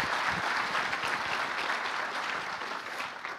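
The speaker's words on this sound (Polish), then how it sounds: "Ja proszę o klaski." An audience at an inaugural university lecture on light electric vehicles applauds, a steady wash of clapping from many hands that holds evenly and fades slightly toward the end.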